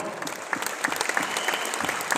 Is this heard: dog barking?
no